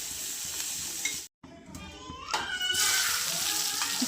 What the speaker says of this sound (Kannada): ಸ್ವಲ್ಪ ಎಣ್ಣೆ ಹಾಕಿ ತವಾ ಒಳಗೆ ಹಾಕಿಬಿಟ್ಟು ಆನಿಯನ್ನ ಹುರಿಬೇಕು ಬ್ರೌನ್ ಕಲರ್ ಬರೋವರೆಗೂ